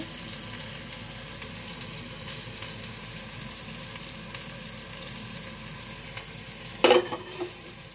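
Bitter gourd slices (karela bhaji) frying in a pan, a soft steady sizzle throughout with a brief louder clatter of stirring near the end.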